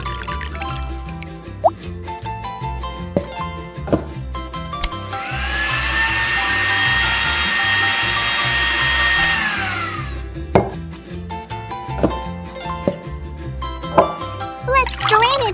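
A blender whirs for about four seconds as it blends watermelon and butter pieces with water, its motor pitch rising and holding, framed by light taps and clinks over background music.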